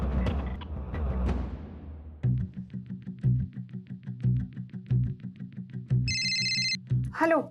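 A telephone rings in a Marathi TV serial scene, giving repeated rhythmic ring bursts at a steady pace, preceded by a noisier stretch of sound.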